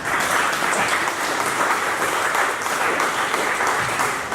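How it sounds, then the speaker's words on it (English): Sustained applause from an audience at a blockchain meetup, a steady dense wash of clapping that stays loud and even from start to finish with no one talking over it. "Can you give a round of applause?"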